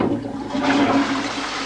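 A flushing toilet rushes loudly up close, a turbulent gush of water swirling through the bowl without pause and with no voices.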